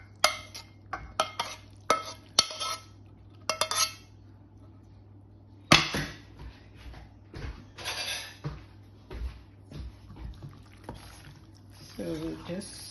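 A spoon or fork tosses drained pasta with a bacon and mixed vegetable mixture, giving irregular clinks and scrapes against the dish, some louder knocks, with quiet talk in the background at times.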